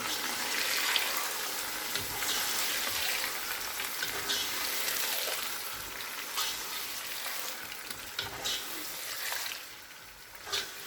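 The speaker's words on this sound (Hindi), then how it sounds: "अब हम इसमें मैरिनेट किया हुआ चिकन शामिल कर देंगे। इसे अच्छे से मिक्स कर लेंगे।" Marinated chicken tossed and mixed in a frying pan, a dense continuous sizzle and wet hiss with intermittent stirring scrapes, steady and moderately quiet.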